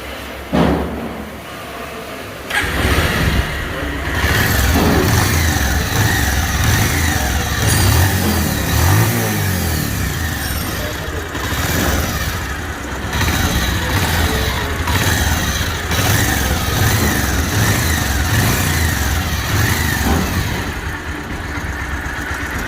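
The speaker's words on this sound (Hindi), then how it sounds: "पहले सबसे पहले इंजन का आवाज़ आपको सुनाता हूँ ताकि आपको पता लगे" A damaged car engine needing a rebuild runs close by, starting with a thump and then holding a steady rough idle with occasional revs throughout, with no talking.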